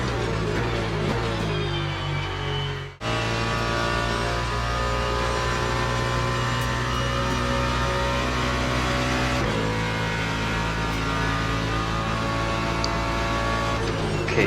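A race car engine at Monza in Le Mans Ultimate holds a steady high-revving drone. A brief cut in power near the start is likely an upshift, and the note then carries on loud and constant with no talk.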